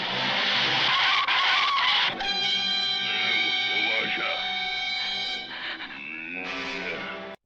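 Tires screech in a prolonged skid from a small car in the 1962 film Eegah, loud and sustained with a rising-falling wail of squeal over engine noise and bits of film dialogue.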